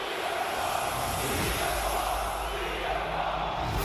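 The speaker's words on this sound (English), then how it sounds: "Crowd chanting for CM Punk." A packed arena crowd in the WWE 2K25 wrestling game chants for CM Punk, forming a dense, steady roar that holds at an even loudness throughout with no single voice standing out.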